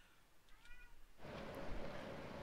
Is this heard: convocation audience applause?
no